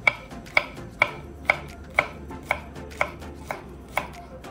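Garlic being sliced with a knife on a cutting board, a steady run of about ten sharp, evenly spaced taps roughly twice a second, close and clear with no talking.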